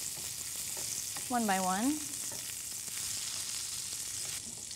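Turnips sear in bacon fat in a pan with a steady, bright sizzle that holds throughout, and a voice speaks briefly midway over it.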